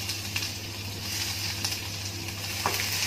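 Crushed garlic sputters in hot oil with fennel seeds for a tomato-cabbage side dish, a continuous close sizzle with light crackles and an occasional stir under a low steady hum, no talking.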